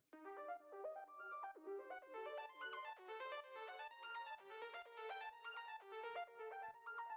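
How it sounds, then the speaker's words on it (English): A textured atmospheric synth layer from Anamorph plays shifting rippling tones, dense and steady across the whole stretch, with no voices. "This acts more like a texturized atmospheric layer"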